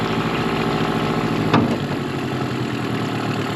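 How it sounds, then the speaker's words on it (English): A Mercury 15 hp outboard motor runs steadily and loudly in neutral at raised RPM, with a brief sharp bump in the middle and no clear rise in pitch. "Hear the engine speed up."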